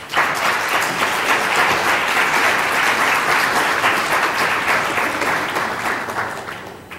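Sustained audience applause in a lecture hall welcoming a speaker at a keynote event on stopping mass atrocities, dense and steady throughout and tapering slightly at the end.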